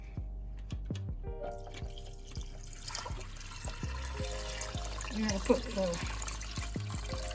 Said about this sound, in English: I add my water.